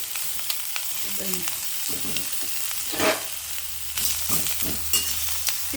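Sweet corn sizzles in hot oil in a pan, a close, steady frying hiss broken by a few scraping stirs and brief louder bursts.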